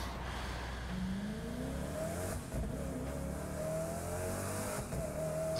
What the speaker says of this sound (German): Das Motorrad ist wesentlich schnell.